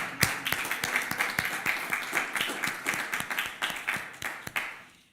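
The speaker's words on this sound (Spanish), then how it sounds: "Demos un fuerte aplauso al Señor." Church congregation claps in praise during a Sunday service, a sustained burst of fairly even, rhythmic clapping that thins out and stops near the end.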